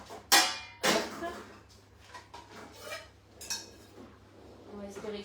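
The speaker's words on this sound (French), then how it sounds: "Je vais chercher la casserole." A saucepan and other pans handled in a home kitchen, with several sharp metallic clanks and clatters spread over a few seconds, followed by quieter scraping and knocks.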